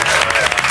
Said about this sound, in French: on va applaudir Gainsbourg